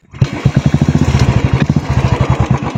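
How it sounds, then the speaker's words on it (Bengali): A 2017 Royal Enfield Classic 350 motorcycle engine runs close and loud after a kick start, with a steady, even rhythm of deep thumping beats. "এখানে ফার্স্টে নর্মাল সাউন্ডটা শোনো বাইকের কেমন লাগছে"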